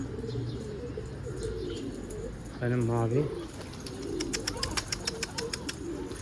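Pigeons coo softly in a loft, with low murmuring calls and a brief flurry of wing flaps, while someone talks quietly nearby and a high chirping rhythm sounds in the background.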